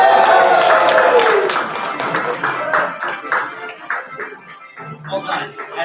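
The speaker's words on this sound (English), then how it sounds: "can we get a big round of applause for the Ghost Girl?" A crowd at a livestreamed awards event claps in a round of applause, dense at first and thinning into scattered claps, with voices mixed in.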